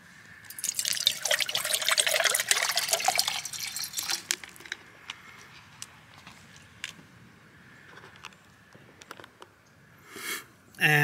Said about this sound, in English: I'm going to pour some water into the can.